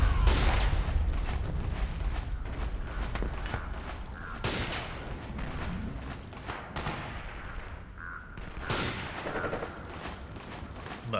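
Rapid gunfire in Metal Gear Solid 4 rattles almost continuously, dense volleys of shots overlapping with mechanical clatter, loud and close throughout.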